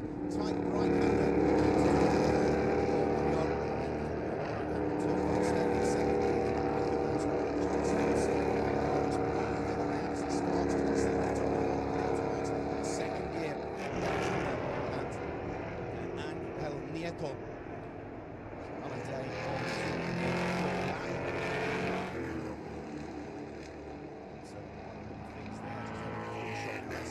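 NASCAR race car engine roaring through a turn in a qualifying session at the Spanish Grand Prix circuit, a loud sustained drone that rises and falls in pitch, with a commentator talking over it.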